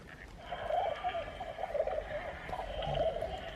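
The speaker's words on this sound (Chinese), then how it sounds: "对，是鸽子的叫声。" Pigeon cooing played from a children's sound-effect book, a soft repeated coo with steady electronic playback hiss, fairly faint and continuous throughout.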